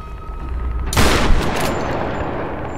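A single loud gunshot from the 2013 Tomb Raider video game rings out sharply over a low background rumble and trails off in a brief echoing decay.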